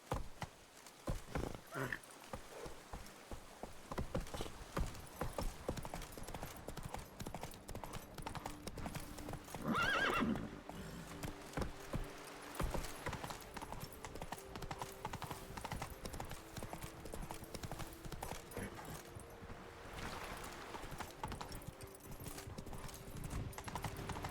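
Hooves clip-clop steadily at a gallop through a Witcher 3 game scene, with a horse's whinny rising briefly around the middle over faint background sound.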